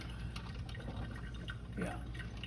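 Liquid being poured into a large container, a steady watery trickling and splashing that continues throughout at moderate level, with no voices.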